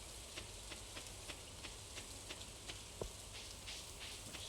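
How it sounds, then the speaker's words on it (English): Steady rain falling on a stone bridge in Stardew Valley, a soft continuous hiss with faint drips and patters, heard alone at low level. "You look like you're sitting on a stone bridge in the rain."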